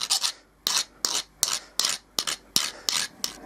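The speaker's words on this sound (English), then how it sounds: "just smooth out all the dents and edges" A hand file rasps in a quick series of about ten short, close strokes, smoothing dents and edges on a homemade bungee part.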